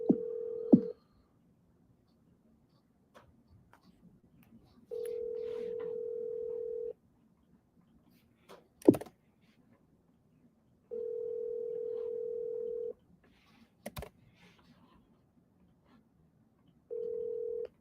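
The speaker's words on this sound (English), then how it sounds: "let's get James on here, man." An outgoing phone call: a brief dial tone and keypad beeps, then repeated steady ringback tones at regular intervals with quiet pauses and a few clicks between, no speech.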